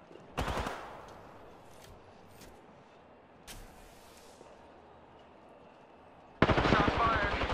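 Video game gunfire, a short loud burst at the start, a couple of fainter isolated shots in the middle, and a dense rapid burst at the end, with quiet game ambience between.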